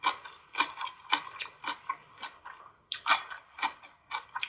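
Crunchy papaya kimchi chewed close to the mic, about a dozen crisp, regular crunches in a steady rhythm with no talk.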